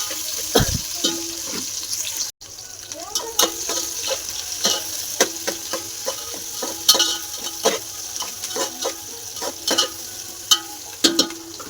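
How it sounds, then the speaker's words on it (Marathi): Onions fry in a pan for chicken biryani, a soft sizzling bed broken by frequent clinks and scrapes of stirring, close and fairly quiet, with no voices over it. "मस्त तळून घेऊ कांदा लाल होतवर तळून घेऊ चांगला"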